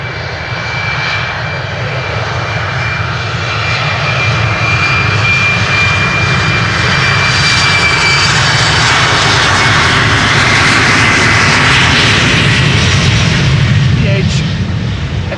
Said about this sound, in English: KLM Embraer 190, flight 1293 to Biland.